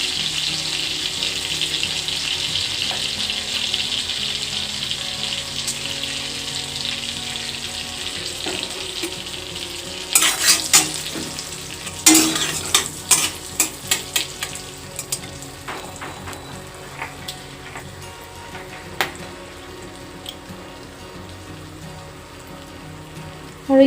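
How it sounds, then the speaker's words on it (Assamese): Whole spices dropped into hot butter in a heated wok while making butter paneer, a soft steady sizzle that bursts into sharp crackling and popping for a few seconds before settling back, with no talk. "আৰু কেৰাহীখন গৰম হৈছে, মই বাটাৰ দি দিছোঁ, আৰু ইয়াতে মই এতিয়া গোটা মছলা যিখিনি মই থৈছিলোঁ সেইখিনি দি দিম।"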